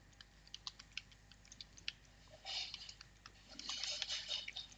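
A password being typed on a computer keyboard, with quick light key clicks at an uneven rhythm, close and quiet. A denser flurry of keystrokes comes toward the end.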